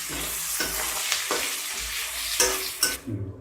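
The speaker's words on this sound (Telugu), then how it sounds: "కారం వేసుకుని ఒకసారి కలుపుకోవాలి" Paneer with chili powder and salt sizzles in a frying pan while a spoon stirs it in repeated scraping strokes, loud and close, ending with a few clinks.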